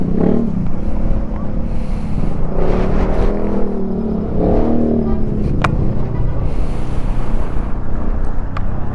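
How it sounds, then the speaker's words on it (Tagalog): Strong wind at a hilltop viewpoint in Malico, San Nicolas, Pangasinan: loud, constant buffeting roar against the microphone, with faint voices underneath. "sobrang lakas ng hangin dito"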